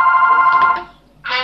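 A telephone rings loudly and close in a home kitchen, a sustained electronic tone lasting under a second, a short gap, then the ring starts again.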